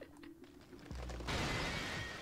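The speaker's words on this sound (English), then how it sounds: "There is a mighty cracking sound, and the red pillars to the 4 sides of me shatter" Pillars shattering in Persona 4 Arena Ultimax: a sudden cracking crash that bursts into a bright, sustained spray of breaking debris, following a brief low mechanical hum and clicks.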